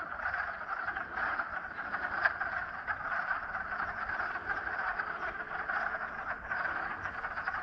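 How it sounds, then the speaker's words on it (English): A large group of mating-season frogs floating on open water croaks in a dense, continuous chorus, steady and moderately loud throughout with no voices over it. "It's mating season for the frogs"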